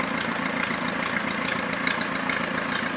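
An Atomic 4 boat engine idles with a steady, even rumble and faint knocking, close and continuous with no talking.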